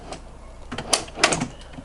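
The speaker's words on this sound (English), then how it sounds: "drawer number 3 is going to come another 3 feet" A DIY drawer in a Toyota 4Runner truck-camping setup slides out, ending in two or three short, close clunks as it locks in place, with quiet rumble between.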